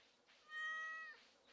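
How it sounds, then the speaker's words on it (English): A cat in Stardew Valley gives one clear, drawn-out meow when petted, a single tonal call lasting under a second over a faint background. "Pet the cat while we're at it."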